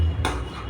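A pot lid is lifted off a pan of simmering brinjal gravy, giving a single brief metallic clink near the start and then a soft hiss of steam, close by with no talk.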